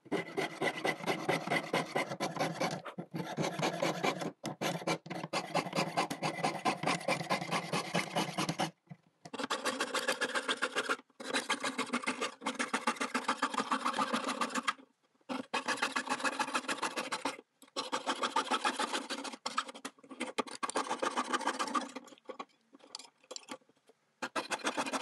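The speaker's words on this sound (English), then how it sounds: "I now have my saw blade through my hole, and I'm just going to cut my inner circle out" Jeweller's saw with a lubricated blade cutting an inner circle out of silver sheet for a cut-out necklace: steady, close, rapid rasping strokes in continuous bursts, broken by a few short pauses.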